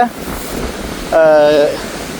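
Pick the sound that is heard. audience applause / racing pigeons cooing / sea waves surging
sea waves surging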